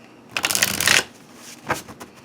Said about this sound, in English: I really like shuffling with it.